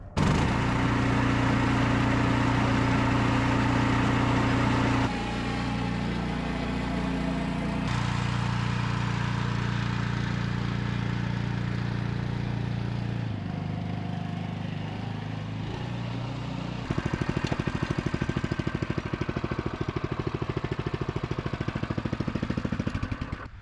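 Honda engine on a Permagreen Magnum spreader running steadily and loud throughout, its pitch and load shifting several times as the throttle is adjusted, with no talking over it.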